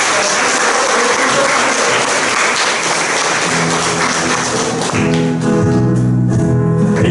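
A church congregation claps at a Catholic service on the feast of Saint John the Baptist, dense clapping that carries on as music with sustained tones comes in toward the end.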